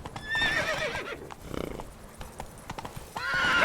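Horse hooves clip-clop steadily in The Witcher 3, the Blood and Wine expansion, mixed with a horse's whinny and game music; no one speaks over it.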